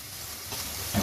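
Ground small onions sizzle in a kadhai, a short soft crackle and steam hiss with a slight louder stir-like rustle at the end.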